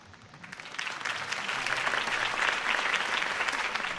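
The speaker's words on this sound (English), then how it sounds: "If only Mr. Wayne, my campaign's largest backer, could have heard that applause" Crowd applause after a campaign speech in a Batman game, a dense wash of clapping that swells within the first second and holds steady and loud to the end.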